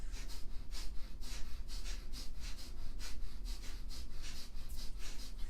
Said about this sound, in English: breath of fire is a rhythmic breathing in and out through the nose